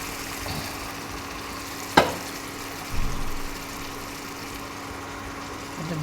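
Bay leaf and cumin seeds sizzling in hot oil in a pan: a steady close frying hiss with a sharp clack near the start of the sizzle and a brief stirring scrape a second later.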